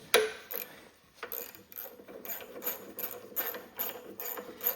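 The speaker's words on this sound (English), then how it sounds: "Should be able to get that deep wall socket in there now." Ratchet wrench clicking steadily as it turns a deep wall socket on a Kohler engine starter of a Cub Cadet Cyclops tractor, a close series of rapid metallic pawl ticks in repeated bursts with no talk.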